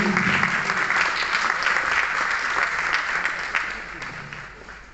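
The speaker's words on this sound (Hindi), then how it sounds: "जोरदार तालियों से स्वागत कीजिए।" A room of people at a retirement program at Kalisindh Thermal Power Plant claps warmly and steadily, the applause holding strong before gradually tapering off toward the end.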